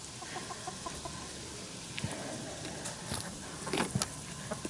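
Hens in an aviary cluck softly and intermittently, the sounds fairly faint and a little distant over a steady background hiss, with a few sharper calls toward the end.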